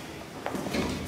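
An indoor door closes with a soft thud and slide, heard once in a quiet room with no talk.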